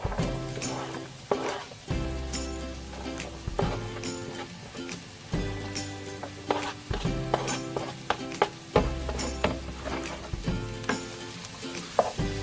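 Onions and bell peppers sizzle steadily in a hot pan for a vegetable ratatouille stew, broken by repeated clacks and scrapes of a utensil stirring, with no talking.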